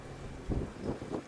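Wind gusting over a sailboat at sea, a steady low rush with a few swelling gusts toward the end, close and fairly quiet with no voices.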